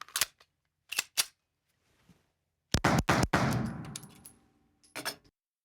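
A Stoeger STR-9 compact 9mm pistol fires a handful of sharp, loud shots at an indoor range, spaced irregularly with one longer burst of reverberant report in the middle.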